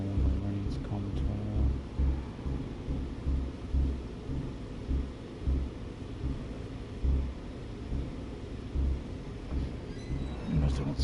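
Heavy truck rumbling along a road through rain in a PlayStation 4 driving game, a steady low engine drone with rolling swells and a wash of rainfall that holds for the whole stretch.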